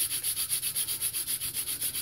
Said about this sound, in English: Squeaking so we don't have friction. And now we have friction. You can hear the abrasion.